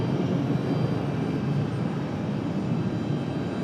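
An American Airlines jet on approach to land on runway 23 right at Raleigh-Durham International, a steady broadband engine roar holding loud and even throughout with no voices.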